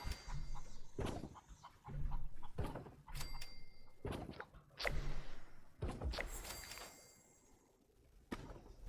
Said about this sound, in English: Okay, chickens, calm down.